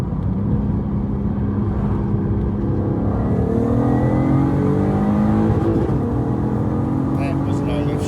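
A modified VW Golf R32 with a VR6 engine revs hard and climbs through the gears in a no-lift shift, its strong, continuous engine note rising in pitch inside the cabin as people talk over it.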